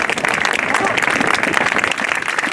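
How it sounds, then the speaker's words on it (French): Audience applause for the Isola sports club: a dense, steady round of clapping from a crowd, continuous and fairly loud throughout the short burst. "On peut vraiment applaudir le club des sports d'Isola"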